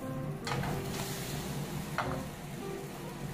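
A large ostrich egg fries in oil in a hot flat pan with a steady, close sizzle, and two short spatula scrapes mark the flip.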